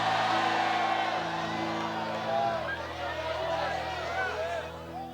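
Church congregation shouting and whooping in praise, a loud crowd roar with scattered voices rising over a steady hum of music or organ tones.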